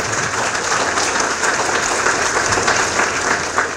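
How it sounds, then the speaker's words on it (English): Audience applause at a school awards evening celebrating a National Blue Ribbon School honor, a brief, loud, continuous burst of crowd clapping with no talk over it. "Yeah, you can clap for this stuff"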